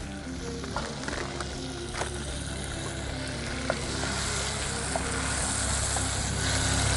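Finely diced onions fry in a pan with a steady, fairly loud sizzle and scattered small pops, continuous throughout and slowly building in intensity.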